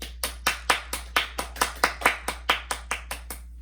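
A church congregation gives a round of rhythmic, evenly spaced claps in unison during a Sunday school worship service, about fifteen sharp beats close together, fairly soft, with no talk over them.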